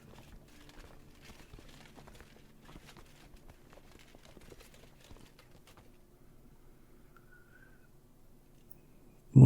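Horse hooves clip-clop in the Crusader Kings II video game, with faint, fairly regular hoofbeats over a quiet background that die away near the end.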